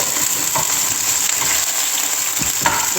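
Onions fry in a hot pan with a steady, close crackling sizzle and occasional stirring scrapes, no voices over it.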